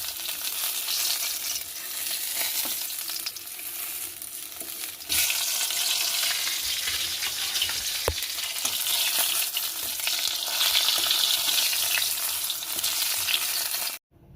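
Fish heads sizzle steadily in hot oil in a pan, a dense, continuous crackle with occasional soft scrapes as they are turned over. No voices are heard.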